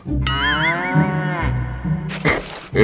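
A carabao, or water buffalo, gives a long, loud, close moo that wavers in pitch, followed by shorter rough bellowing calls.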